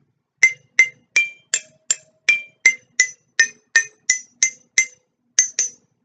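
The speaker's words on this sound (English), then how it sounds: "A demonstration of my modified xylophone." Homemade modified xylophone fitted with iron bars, inspired by vibraphone and glockenspiel, plays Ode to Joy as a bright metallic melody of about fourteen evenly spaced struck notes, each ringing briefly, close and alone.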